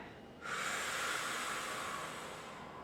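A single long breath pushed out through the mouth during a calm qigong breathing exercise, a soft steady airy rush that starts abruptly and fades slowly, close and alone with no talking.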